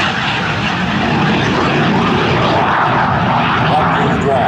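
A T-33 jet trainer at an air show gives off a loud, continuous roar that holds steady throughout, with a voice talking over it.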